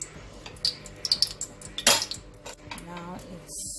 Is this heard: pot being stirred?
yes